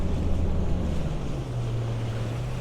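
A 2020 Nitro Z21 bass boat with a Mercury 250HP Pro XS outboard running through waves, with a steady engine drone under constant rushing wind and water noise.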